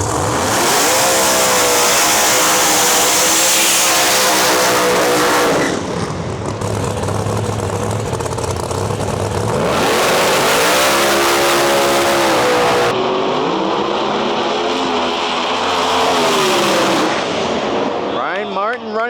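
Pro Mod drag racing cars at Mission Raceway, deafening engines roaring down the strip with crackling, explosive bursts, rising and falling through several loud runs, very close and overpowering.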